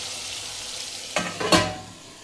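Okra (bhindi) cooking under a plate lid in a pan, a steady soft frying hiss with two short louder bursts of sizzle and clatter near the end before it settles quieter.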